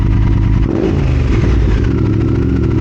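A 2022 Triumph Speed Twin fitted with an X pipe idles loudly after a throttle blip, its deep throbbing exhaust settling as revs fall, close and steady with no voices.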